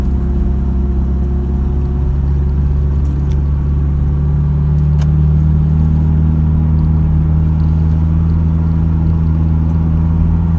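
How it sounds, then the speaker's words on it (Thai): A heavy truck engine rumbles loudly in second gear while descending a hill, a deep, steady drone with a constant low hum and no break, close to the listener. "ตอนนี้ผมลงเกียร์สองนะครับ รถหนักนะครับ"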